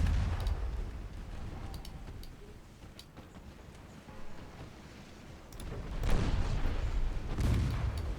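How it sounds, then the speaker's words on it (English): Torpedoes launching in a naval warship game, played in a US carrier campaign: low booming, rumbling bursts swell and fade over a steady background, with heavier surges near the end, distant and muffled, no talk. "Torpedoes away."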